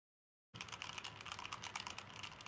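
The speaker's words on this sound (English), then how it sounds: "I've got another mechanical keyboard right here." Fast, continuous typing on a mechanical keyboard with blue switches, dense clicky keystrokes starting abruptly and running steadily for about two seconds, close and quiet, with no talking.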